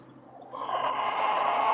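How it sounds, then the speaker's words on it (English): Chickens cluck and squawk nearby beside a camper, a brief noisy flurry of fowl calls rising after a quiet start. "These are the noisy chickens you might be hearing in the background."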